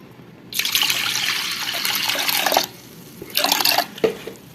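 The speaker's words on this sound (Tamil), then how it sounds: "இப்போ இதில் தண்ணி கொஞ்சம் ஊற்றிக்கலாம்" Water is poured into a cooking pot holding moong dal, prepared for a banana stem kootu. There are two bursts of steady close splashing, one long and one short, with a few drips after.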